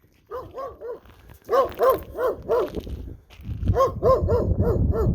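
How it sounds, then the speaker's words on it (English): A dog barks repeatedly outdoors, loud and close, in short clusters of two or three barks separated by brief pauses, with a busier run of barks toward the end. "We got a dog here."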